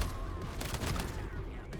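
Dense, rapid bursts of gunfire from the action roguelike video game KIBORG crackle continuously at moderate loudness for about two seconds.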